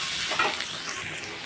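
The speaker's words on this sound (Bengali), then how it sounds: "এটাকে দিয়েও আমি একটু ভেজে নিচ্ছি।" Onion and potato frying in a pan make a steady, close sizzle and hiss, with no voices.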